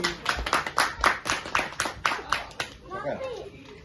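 Hands clap in a quick, steady rhythm about a dozen times, close and fairly loud, then stop as a voice speaks briefly.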